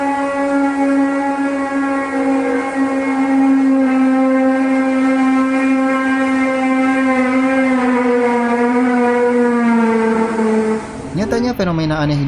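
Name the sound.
mysterious sound like trumpet, squealing metal and jet engine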